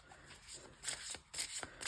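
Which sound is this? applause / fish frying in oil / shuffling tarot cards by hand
shuffling tarot cards by hand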